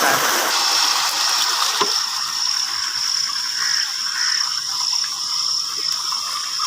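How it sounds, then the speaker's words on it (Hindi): Irrigation pump water flowing steadily through a rice paddy field, a continuous broadband rushing wash with a sharp high hiss throughout, fairly loud and close, with no talk. "नीचे भाई साहब अभी भी फुहारा चल रहा है"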